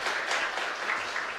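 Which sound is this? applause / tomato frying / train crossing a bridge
applause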